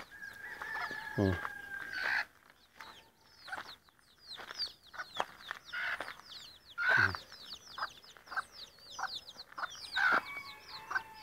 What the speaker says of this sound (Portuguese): escutei barulho de pintinho, né?